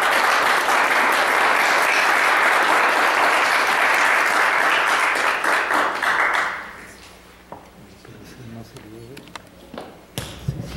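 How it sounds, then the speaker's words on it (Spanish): Strong, sustained audience applause at a philosophy book presentation in Peru, loud dense clapping for about six seconds that fades into scattered claps, then a voice begins speaking. "así que la recibimos con muy fuertes aplausos"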